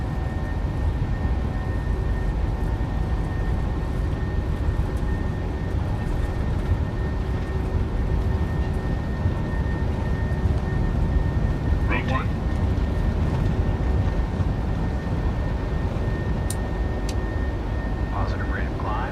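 A PMDG 737-800 in MSFS 2024 rolls down the runway at takeoff power, a loud steady engine roar and rumble holding for the whole stretch, with brief faint clicks near the end.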